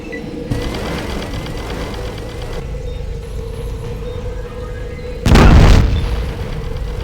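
A rocket launcher explosion in the video game Fallout Tactics, fought in Cheyenne Mountain: one loud, short, booming blast bursts out near the end over a constant low mechanical drone.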